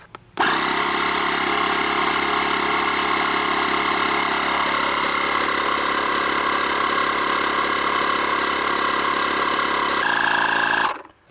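A Wolfbox MegaFlow 2 rechargeable tire inflator runs loud and steady while topping off a large tire, a constant buzzing motor drone that starts abruptly, holds unbroken, shifts tone near the end and then cuts off.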